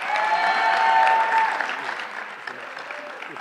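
Steady audience applause fills a school awards ceremony in Columbus, Ohio, a continuous loud wash of many hands clapping that swells briefly and then holds before easing slightly.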